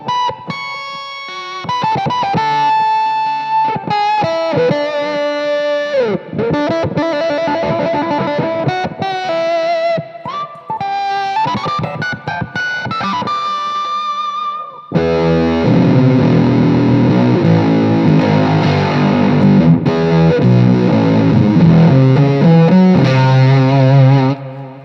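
An electric guitar played through a drive pedal into an amp with the treble turned fully up gives distorted notes and phrases with gaps, then a dense, sustained chord passage that grows louder and fuller in the second half.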